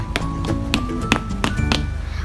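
Several light taps knock water droplets off a surface coated with No Wet spray, a handful of sharp hits spaced irregularly over a steady background hum.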